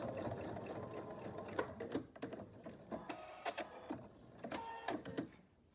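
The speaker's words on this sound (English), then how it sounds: "I'm going to sew the hanging loop on, and I'm using my quilting foot" A sewing machine with a quilting foot tacks a hanging loop onto a fabric panel for a quilted bowl cozy, running in several short, close bursts of rapid mechanical stitching separated by brief pauses.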